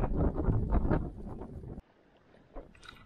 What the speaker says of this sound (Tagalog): Lakas talaga ng hangin.